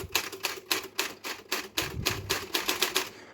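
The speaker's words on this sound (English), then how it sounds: "Closer to the compact style typewriter sound now" A typewriter muffled with yoga mat soundproofing and felt lining is typed in quick, even keystrokes, about six per second, each a dull, damped clack close to the listener.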